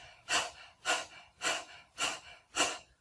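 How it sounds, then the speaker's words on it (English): Rhythmic panting breath exercise done like a panting dog: five sharp, breathy exhalations at an even, steady pace, close and alone. "start off with just panting like a dog"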